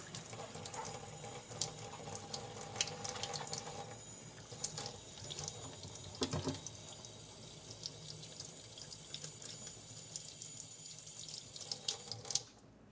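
Water runs from a sink tap in a continuous, fairly close hiss and patter as soapy hands are rinsed beneath it, shifting slightly as the hands move, then cutting off abruptly at the end; nobody speaks.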